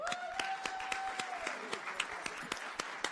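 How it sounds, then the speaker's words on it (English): Sparse, hesitant clapping rises from the audience at a town board meeting after the deputy supervisor appointment, faint and scattered, with a voice faintly audible under the claps. "Let's all clap for that."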